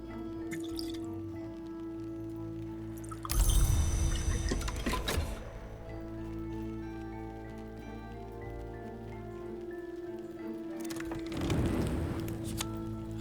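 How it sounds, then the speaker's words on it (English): Dandelion wine poured out in the video game Book of Hours, two splashy liquid pours with dripping over a steady tonal music bed, the first louder and longer, the second fainter near the end. "I should probably pour out the dandelion wine."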